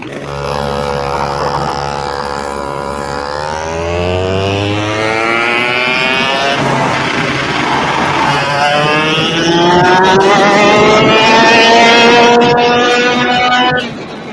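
Race car engine in a sim racing game revs up through the gears, climbing pitch repeatedly with shifts, loud and continuous with no talk.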